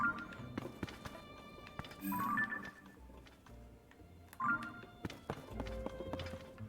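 Steady horse hoofbeats clip-clop at an even walking pace in The Legend of Zelda: Tears of the Kingdom, with occasional chimes and game sound effects layered over a quiet background.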